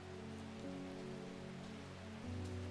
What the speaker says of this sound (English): The cozy rainy background noise